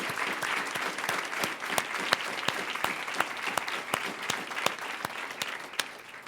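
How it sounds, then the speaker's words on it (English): An audience at an event gives a sustained round of applause, with dense clapping from many hands at a steady level and a few sharper claps standing out. "big round of applause."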